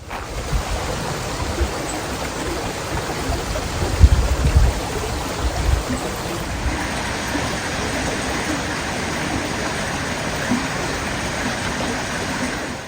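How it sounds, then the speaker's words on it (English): A small river on the Superior Hiking Trail flows nearby with a steady, full rushing wash that barely changes, and no one speaks. "There's a little river up here"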